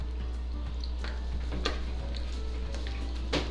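Soft clinks and scrapes of a utensil stirring chicken soup in a pot, irregular light taps over a steady low hum, quiet and close, with no talking.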